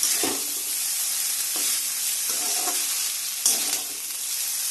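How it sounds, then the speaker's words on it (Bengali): Chow mein noodles are stirred in a hot pan, giving a constant frying sizzle broken by several scraping stir strokes, close and fairly loud, with no voices. "এবার চাউটা দিয়ে নাড়াতে হবে।"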